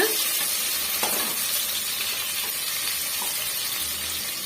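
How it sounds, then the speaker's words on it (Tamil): Sliced onion sautéing in oil with cinnamon and cloves for mint pulao, a constant close sizzle broken by a few faint spatula scrapes, with no talking. "இப்போ வந்து நம்ம முழுமையாக வெங்காயம் மட்டும் வதக்கி விட்டுக்கலாங்க"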